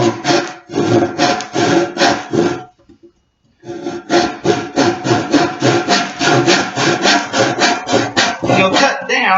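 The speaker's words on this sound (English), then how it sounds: "you take your handsaw and you will start cutting down those lines on the angle" A handsaw cuts wood at an angle along marked lines for a kids' Viking chair, loud steady rasping back-and-forth strokes in quick rhythm, with a short pause before the sawing resumes.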